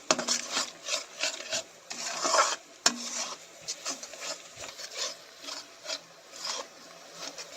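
Spice paste for a potato and patol curry is stirred and scraped in a pan, a quiet rhythmic rasping of a spoon against metal repeating every half second or so, with one sharp clink.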